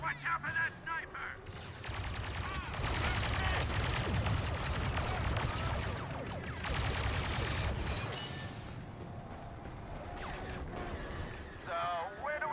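Star Wars Battlefront 2 battle sounds with rapid blaster and gunfire bursts, and rumbling explosions swelling in dense waves, while voices shout over the combat.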